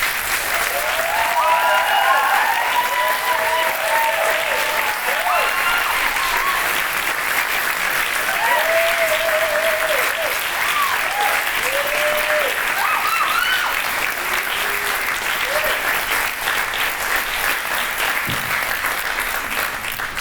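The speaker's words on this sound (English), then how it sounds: "could you give him a round of applause, please?" A large audience at a cabaret night claps loudly and steadily, sustained applause filling the space, with a few scattered cheers and whoops rising above it.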